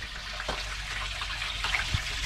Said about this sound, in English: Start putting some water in there.